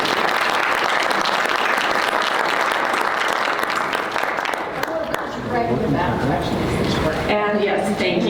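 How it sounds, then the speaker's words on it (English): An audience claps in steady, sustained applause for several seconds at a talk about global mediation. The clapping then thins out as a speaker's voice comes in over it. "give her a little round of applause for all she does"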